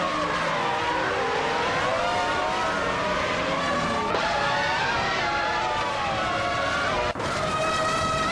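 A Minardi M198 Formula One car races in a racing game, its engine wailing at high pitch with rising and falling revs, loud and continuous, with a sharp gear change near the end.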